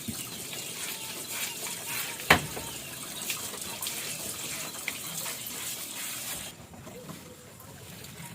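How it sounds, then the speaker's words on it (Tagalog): Water runs steadily into a sink during cleaning, a continuous splashing rush broken by one sharp knock, then thinning and quieting near the end. "Ato sa aning limpyuhan dani ang atong lababo kay para limpyo kaayo"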